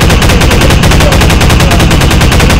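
Rapid automatic gunfire in a video game, loud, dense and unbroken, with evenly spaced shots rattling for the whole short stretch and no talking.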